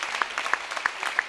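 An audience claps for the staff at the close of a stage show, a short burst of dense applause with a few sharper accents standing out over the steady patter.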